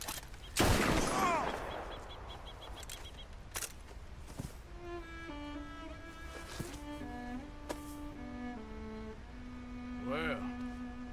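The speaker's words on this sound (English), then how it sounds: "I shot him in the goddamn back." A single loud gunshot bursts out near the start in Red Dead Redemption II, ringing over game ambience, followed by sparse background sounds and faint voices with tonal music later.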